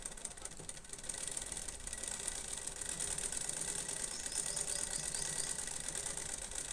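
Sewing machine stitching piping onto a net fabric blouse, running as a steady, continuous motor whir and rapid needle chatter that holds at an even level throughout, with no talking.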